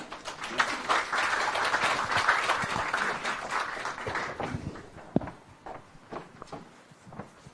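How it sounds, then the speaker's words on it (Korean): A gathered audience applauds as a fashion speaker comes forward at a church arts event, a full round of clapping that thins into scattered claps and footsteps toward the end. "나오실 때에 우리 같이 박수로 맞이하겠습니다"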